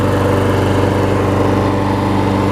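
A Troy-Bilt self-propelled lawn mower with a freshly repaired carburetor runs steadily at close range, its loud small-engine drone constant and unbroken throughout.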